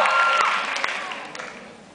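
Applause from an audience in a room, a burst of clapping that fades steadily over two seconds, with a faint voice over it.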